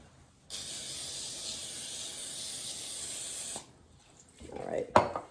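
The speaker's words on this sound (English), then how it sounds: "we're going to spray that so nothing sticks" Cooking spray hissing onto a parchment-lined baking pan for brownies, one steady close spray burst lasting about three seconds, followed by faint clatter from the pan.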